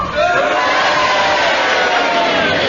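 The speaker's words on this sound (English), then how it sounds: "will you cheer and boo together now?" A studio audience at a comedy panel game cheers and boos at the same time, producing a loud, dense crowd roar that holds steady from start to finish.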